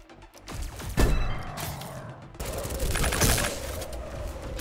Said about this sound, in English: This gun kinda sucks, honestly.